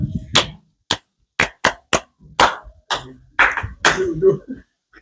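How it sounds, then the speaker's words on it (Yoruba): A studio audience claps in scattered short bursts, several sharp separated volleys of applause at close range, mixed with bits of talk between them. "Ẹ pàtẹ́wọ́ fúnra yín."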